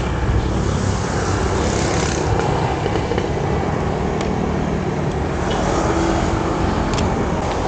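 A motor runs steadily with a dense, unbroken drone at an open-air fishing spot. It holds at an even level throughout, close and loud, with no talking.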